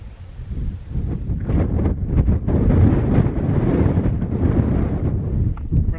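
Cold wind gusts across an exposed summit in the Uinta mountain range, buffeting the microphone in a steady, loud roar with heavier bursts and low rumbling throughout.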